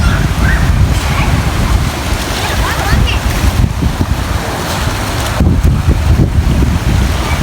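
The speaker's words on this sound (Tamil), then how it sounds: "மேலால் தண்ணி ஆக்ரோஷமாக வருது அந்த காற்றுகள் வேகம் வந்து பார்த்திங்கன்னா கடுமையாக இருக்குது" Loud, continuous rushing floodwater and gusting wind buffet the microphone in Batticaloa, a dense roar throughout with no pauses.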